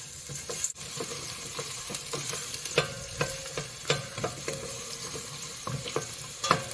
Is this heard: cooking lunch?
yes